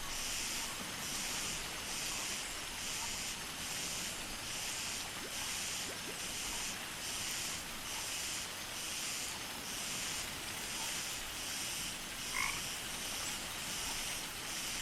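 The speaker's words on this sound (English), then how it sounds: "Frog." Frogs croak in a swamp in the video game Journey to the Center of Mars, a steady loud chorus of pulsing, evenly repeating calls over a constant hissing background, with no talking.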